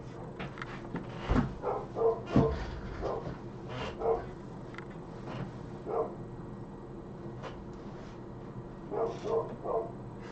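Dogs barking at a distance in a quiet room, a series of short, fairly faint barks scattered across the stretch with a couple of louder ones near the start.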